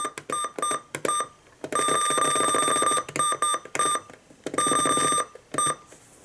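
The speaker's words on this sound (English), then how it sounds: "And before the alarm goes off," A weather radio alarm goes off in a loud, piercing electronic tone, chopped into rapid bursts and longer blasts that stop and restart several times.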